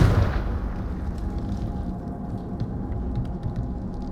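A Confringo fire spell bursts in Hogwarts Legacy with a loud, close boom at the start, then a dense roaring rumble that lingers steadily for several seconds.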